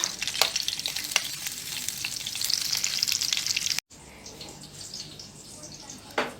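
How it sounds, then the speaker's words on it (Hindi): Hot oil sizzles and crackles steadily as spices are tempered for a chickpea dish, with a sharp burst near the end after a brief cut. "ये चनों का ना जो तड़का है तैयार करके ना बस फिर मैं तड़का लगा देती हूँ।"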